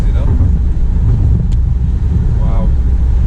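An Abarth Punto Evo hot hatch engine drones steadily from inside the moving car on a rainy Chennai road, a loud low rumble under wind noise, with someone talking briefly.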